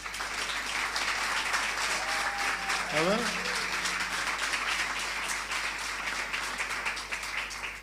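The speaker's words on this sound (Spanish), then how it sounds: "Un aplauso al pastor, hace un buen trabajo." A church congregation claps for its pastor at a convention, dense steady applause filling the whole stretch while a voice speaks briefly over it.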